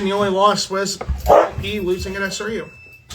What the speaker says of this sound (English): pardon the noise you may have just heard. That's my dog's collar.